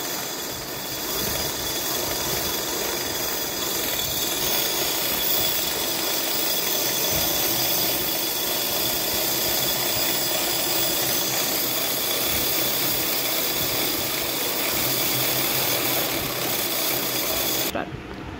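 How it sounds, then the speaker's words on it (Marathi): A sewing machine runs steadily for a long stretch while winding thread onto a bobbin, a continuous close mechanical whir and hum that stops abruptly at the end. "आता आपलं बॉटम झालेलं आहे भरून मशीनच्या साहाय्याने"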